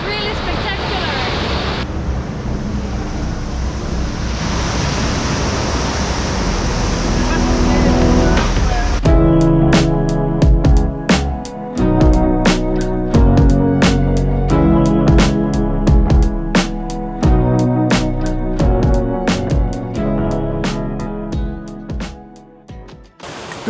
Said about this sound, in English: made it through the waves out here